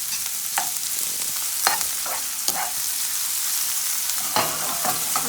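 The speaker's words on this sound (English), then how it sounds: "And you can hear this sizzling up." Bitter melon with garlic, green onion and pepper sizzles steadily in a frying pan, with several sharp clicks and scrapes from stirring over the constant hiss.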